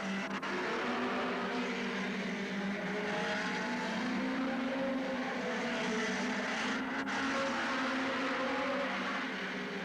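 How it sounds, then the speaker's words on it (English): A pack of hot rod cars at a 1985 Northampton oval race grand final roars off the start, engines droning loudly and continuously with rising and shifting pitch, a crowd-filled track ambience beneath. "The Acorn Computers Grand Final of Hot Rods gets underway."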